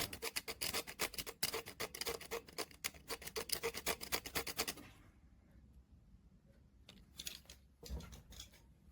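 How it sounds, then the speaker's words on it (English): Rapid scraping on a circuit board from a Casio CT-S200 keyboard under repair, a dense run of close, bright scratching strokes for about five seconds, then quiet with a few short scrapes near the end and no talking. "let's scrape a PCB board and solder"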